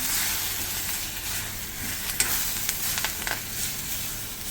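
Turmeric and chili powder stirred in a hot pan while making a Hogenakkal-style fish curry, a steady loud sizzle with a few scraping stirs, close up and without talk.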